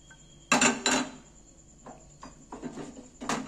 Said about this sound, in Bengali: গ্যাসের মধ্যে আমি একটা প্যান বসিয়েছি।